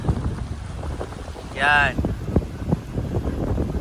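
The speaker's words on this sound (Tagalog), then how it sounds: "Lakas ng agos oh. Oh, lakas ng hangin." Strong wind at sea during super typhoon Uwan in Aklan, a steady gusting roar with surf, a brief tonal whoosh midway, and a person speaking briefly over it.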